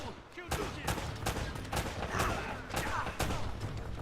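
Enemy gunfire in Uncharted: Drake's Fortune, a steady run of sharp shots cracking every half second or so over a dense, busy game mix, fairly loud throughout.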